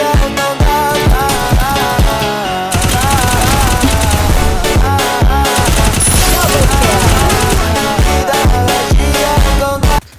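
AK-47 fire in a mobile battle-royale shooter, loud sustained automatic bursts over game music and effects, dense rapid rounds filling nearly the whole stretch.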